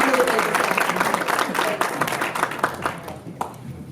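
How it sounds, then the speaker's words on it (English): An audience at a chapter meeting claps and applauds, a dense wash of handclaps that starts loud and thins out toward the end, with voices mixed in. "Can I get a round of applause?"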